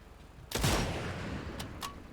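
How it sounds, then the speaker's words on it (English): Gunfire in the video game Sniper Elite 5, one loud sharp blast with a rumbling tail followed by two fainter, more distant shots. "Oh, they're hearing your gunshots."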